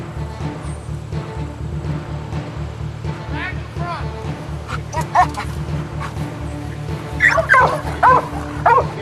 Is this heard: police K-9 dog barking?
yes